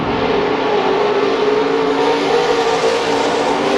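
Race cars roar around Billings Motorsports Park, a loud, continuous engine drone with a steady pitch from several cars close by, sustained without break.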